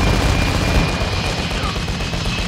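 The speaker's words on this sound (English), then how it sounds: "Now chopper gunnery's inbound off." Chopper gunner helicopter killstreak in a Call of Duty multiplayer match: a loud, steady roar of rotor and engine noise with rumbling blasts, filling the whole moment without talk.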